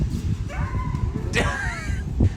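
A dog hit by a brand new bike on its first ride gives several high, wavering yelps and whimpers amid outdoor background noise, fairly close and clear.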